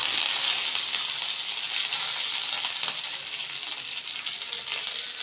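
Curry leaves hit hot oil in a pan and sizzle loudly and steadily, a dense crackling hiss that holds for several seconds with faint stirring and no talk.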